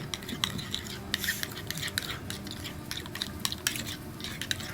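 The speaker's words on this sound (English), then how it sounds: "So I'm gonna mix this all together." Hot sauce mixture being mixed in a bowl, giving a steady scraping, clinking stir with sharp utensil taps against the bowl throughout, close and fairly quiet with no talking.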